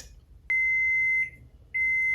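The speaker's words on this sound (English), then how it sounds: "There's the buzzer." An oven timer buzzer gives a loud, steady electronic beep, cuts off briefly, then beeps again, close by and with no talk over it.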